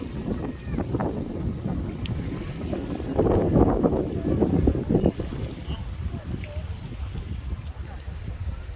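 Gusty wind buffeting the microphone on a beach in Makarska, Croatia, rising and falling in bursts with faint surf underneath.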